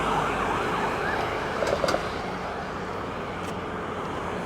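An emergency vehicle siren wails faintly along a town main street, its rising and falling tone mostly buried in steady traffic and street noise with a few brief clicks.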